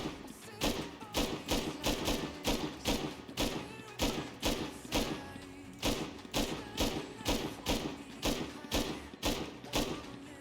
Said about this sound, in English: Let's have a look at explosive ammo.